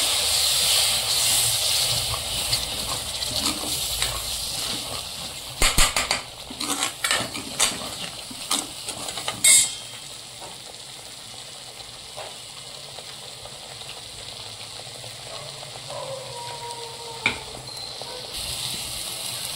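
Water poured into a pan of hot fried masala for fish curry sets off a loud hissing sizzle with clinks of a utensil, bursting sharply then settling into a quieter, steady simmering hiss.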